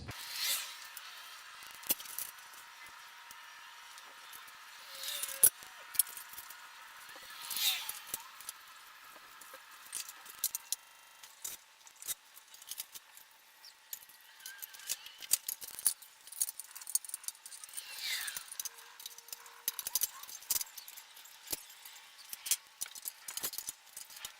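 Clinking, rustling rummage through a bag of small metal tool keys, such as Allen keys, packed with a KLUTCH band saw: scattered light metallic jingles and scrapes, fairly quiet and intermittent over about twenty-four seconds.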